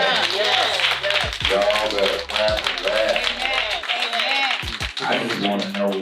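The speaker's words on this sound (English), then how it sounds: "Y'all better clap for that." An audience claps at a Fantasia meet and greet, a dense, steady patter of hands mixed with loud crowd voices and talking throughout.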